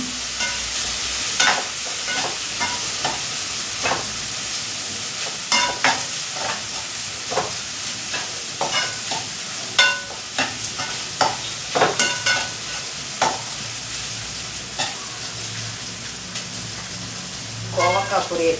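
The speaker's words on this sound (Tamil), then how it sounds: "கோவக்காய் பொரியல்" Ivy gourd (kovakkai) poriyal is stir-fried in a pan, a constant close sizzle broken by frequent spatula scrapes and taps in an irregular rhythm, running steadily for the whole stretch.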